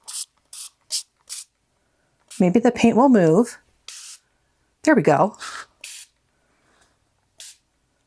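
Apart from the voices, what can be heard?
spray bottle spraying water onto watercolor painting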